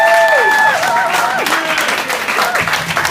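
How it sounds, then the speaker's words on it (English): Audience applause following a speech at a justice ministry launch of employability workshops, a steady wash of clapping filling the whole clip with some cheering voices mixed in. "Round of applause."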